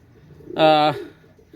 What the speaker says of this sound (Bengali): একজোড়া ওমান টেডি কবুতর